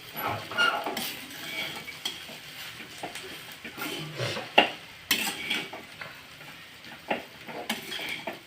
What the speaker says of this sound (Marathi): आता बारीक करून घेतलेल्या चपात्या आपण त्याच्यामध्ये घालून घेऊया. आणि हे थोडंसं हलवून घेऊया आपण.